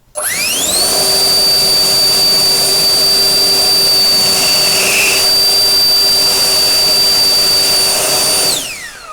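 A cheap Chinese turbo jet blower running at its first speed, spinning up into a loud, steady high-pitched whine with a jet-like rush of air, holding level for several seconds before winding down at the end.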